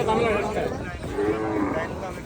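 Cattle low loudly and close by at a rain-soaked cattle market in Ashulia, a long drawn moo rising over background chatter and market noise.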